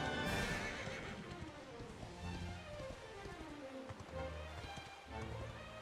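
A horse in the video game Dragon Quest XI neighs and whinnies loudly at the start, then its hooves clip-clop steadily while game music plays underneath.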